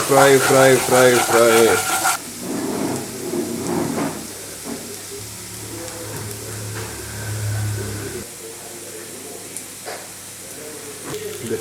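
An egg curry base fries in a pan with a soft sizzle and hiss, while a voice talks loudly over the opening and then more quietly.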